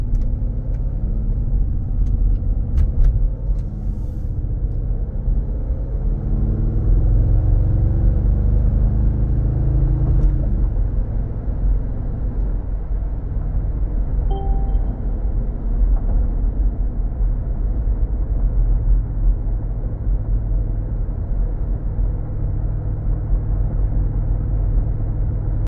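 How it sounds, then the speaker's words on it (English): A 2019 Mercedes-Benz G550 4MATIC on a test drive, heard as a steady low engine and road rumble from inside the cabin, with one brief rise in engine note partway through. "Okay, we're gonna go on a quick test drive."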